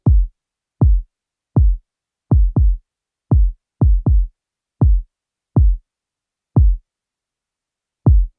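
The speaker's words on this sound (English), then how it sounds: "So the kick drum in this record on its own sounds like this." A simple low-end-centered kick drum plays alone: about a dozen deep, punchy thumps in an uneven rhythm, each with a short decay and silence between hits.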